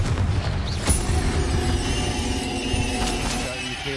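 Blasts from the Confringo fire spell in a Hogwarts Legacy combat fight, a loud boom near the start followed by rumbling, crackling effects amid game music and clashing.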